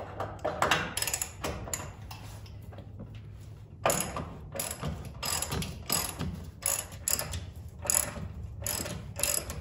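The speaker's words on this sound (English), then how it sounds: "I think I'm gonna loosen these bolts up here a little bit" Ratchet loosening suspension bolts on an OBS Chevy truck, a run of close, dense clicking bursts with brief pauses between strokes, no talking.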